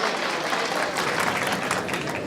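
Audience applause at a talk on adapting García Márquez to the screen, a dense continuous burst of clapping from a crowd, loud and close.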